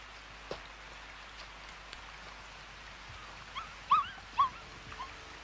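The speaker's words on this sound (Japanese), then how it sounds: "子犬を拾ってしまった。" A stray mongrel puppy found along the Yangtze gives two short, high whimpering yelps close together near the end, faint against a steady soft patter like rain.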